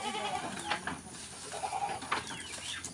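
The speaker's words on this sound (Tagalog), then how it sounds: "Nagpakain po niya mga kambing." Goats being fed on a rural farm bleat repeatedly, several loud nearby calls in quick succession over a noisy outdoor background.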